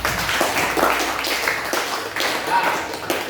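Students in an Islamic religious education classroom clap together in a brief burst of scattered hand claps, fairly close and moderately loud, with a voice heard over the clapping.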